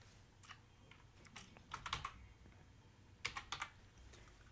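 Typing on a computer keyboard, a few quiet clusters of quick clicks in short bursts separated by pauses, close and faint, with no voice.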